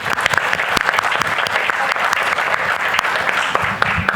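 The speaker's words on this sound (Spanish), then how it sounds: "les pido por favor que con esto pues le demos un fuerte aplauso" An audience at a panel on institutional openness for democracy breaks into loud, sustained applause, a dense wash of many hands clapping close and steady, with a few sharper individual claps standing out.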